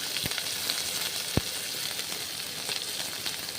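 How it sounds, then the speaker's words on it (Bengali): Whole cumin seeds sizzling in hot mustard oil, stirred now and then; a dense, steady close crackle with a couple of sharp spatula taps against the pan. "সামান্য সর্ষের তেল দিচ্ছি, গরম করছি, গোটা জিরে দিচ্ছি, সামান্য নেড়ে চেড়ে ভেজে নিচ্ছি।"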